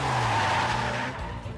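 A car drifts with squealing tyres in the Gyakuten Saiban anime, a loud sustained skid with engine tone that tapers off near the end, with no talking over it.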